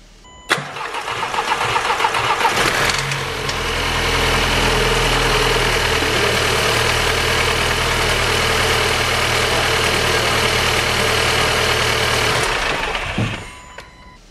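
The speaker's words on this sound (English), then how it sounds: "Right, engine runs." A Skoda Octavia vRS engine cranks, catches and settles into a loud, steady idle close up, running evenly for about ten seconds before shutting off.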